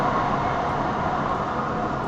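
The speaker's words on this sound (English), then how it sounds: "That's just the Max, the local transit going by every now and again." A steady, continuous rumble of a passing light rail train, broad and even throughout, with no voices.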